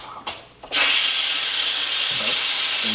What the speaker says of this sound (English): And this is going to hiss.